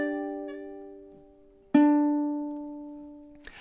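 Ukulele playing measure 14 of a song: two plucked chords, one ringing and decaying, then a firmer strum that sustains, with a brief extra strum at the end, close and alone.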